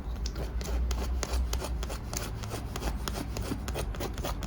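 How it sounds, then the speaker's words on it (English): A bicycle inner tube being scuffed with a sandpaper-like tool during puncture repair, giving close, continuous rapid rasping strokes that stay steady and loud with no talking. "So just rub it thoroughly, otherwise it won't stick properly."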